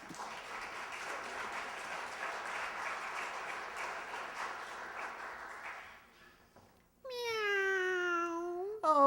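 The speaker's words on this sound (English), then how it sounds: "That's a good kitty." A house cat meows several times in close, clear cries at the end of a scene in an old radio comedy. Before that comes a long stretch of applause-like hiss, then a short quiet gap.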